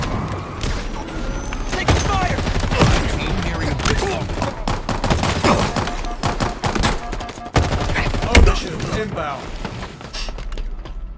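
Halo Infinite gunfire during beta multiplayer matches, with repeated sharp shots and bursts in uneven clusters, fairly loud, while voices talk over the action.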